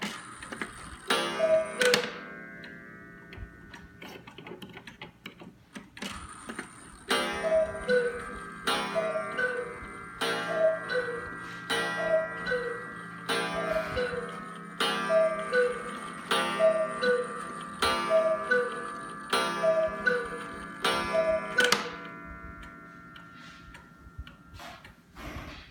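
An antique Black Forest hunter cuckoo clock from around 1880, five feet tall, ticking steadily with a loud, even tick-tock, accompanied by a repeating sequence of ringing chime-like tones across the middle of the stretch.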